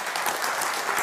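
A church congregation claps briefly, a dense wash of hands filling the moment.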